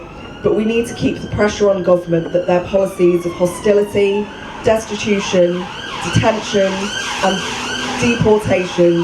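An emergency vehicle siren wails outside in repeated rising and falling sweeps, loud and steady beneath a person speaking throughout.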